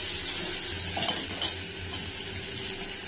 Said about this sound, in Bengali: এদিকে আমি ঢেঁড়স আলু অল্প করে একটু ভাজা করছি